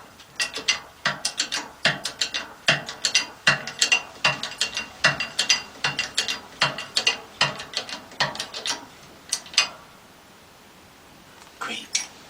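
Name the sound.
ball joint pressed into spindle with press tool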